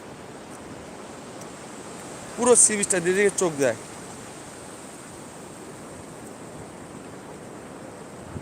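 Steady hiss of sea waves washing onto a beach with the tide coming in fills the background throughout, while a person speaks briefly in the middle.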